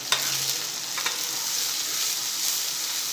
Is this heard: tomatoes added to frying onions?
yes